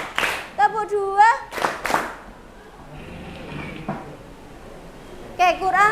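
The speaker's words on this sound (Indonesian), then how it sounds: "Tepuk 1, tepuk 2, tepuk 2." Children clapping a classroom clap pattern in a lesson, several short, sharp bursts of clapping between a teacher's spoken counts, fairly close in a small room, with quieter murmuring through the middle.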